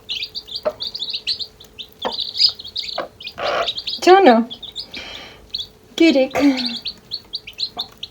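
Chicks chirp in rapid, bright bursts while being fed by hand, close and fairly loud, with someone talking over and between the calls.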